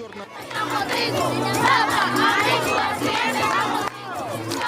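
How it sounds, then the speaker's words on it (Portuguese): A large crowd in Saurimo greeting the Pope, with loud continuous cheering, shouting and high-pitched voices massed close together throughout. "recebe um banho de multidão em Saurimo"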